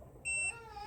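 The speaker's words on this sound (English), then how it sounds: "Do not release the button until a beep is heard." A single short electronic beep from a Secretlab Magnus Pro desk during its reset, a clean tonal bleep lasting about a quarter second over quiet room background.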